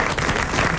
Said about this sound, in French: vous applaudissez Monsieur Naudin de Charleville